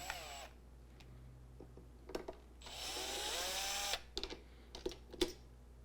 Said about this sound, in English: So let's go ahead and pull the pedal faces off.